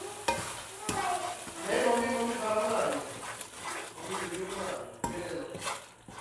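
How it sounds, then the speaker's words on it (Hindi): Semolina halwa being stirred with a spoon in a pan, scraping and sizzling close up with occasional clinks of the spoon against the metal, under a person talking. "अब इसको भी मुसलसल चम्मच हिलाते हुए आपने मिक्स कर लेना है और यकजान कर लेना है।"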